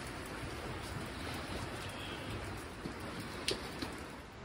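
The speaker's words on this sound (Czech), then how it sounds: "Prší." Steady rain falls on a trek around Manaslu in Nepal, a dense even hiss with a few louder drops tapping nearby, no voices.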